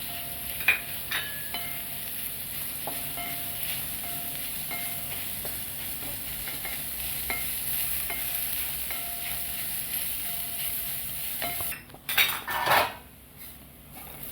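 Ground coconut, garlic and ginger sauté in a pan for sambar, with a soft sizzle under a spoon that scrapes and taps against the metal at irregular intervals, followed by a few louder clatters near the end.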